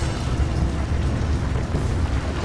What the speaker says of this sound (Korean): 곳곳에서 폭발도 발생했다